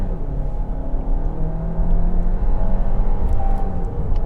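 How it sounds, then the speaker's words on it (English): A car engine revs steadily as the car sits on the line ready to launch, then climbs in pitch as it begins to pull away. The sound is loud, close and unbroken, with no talking over it. "Left foot on the brake, right foot on the accelerator, hazard lights off, revving the motor"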